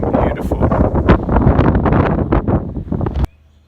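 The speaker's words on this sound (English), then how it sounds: "it got a little windy up on the summit of Humpback Rock" Strong wind buffets the microphone on the rocky summit of Humpback Rock, a loud continuous roar with gusty surges that cuts off abruptly near the end.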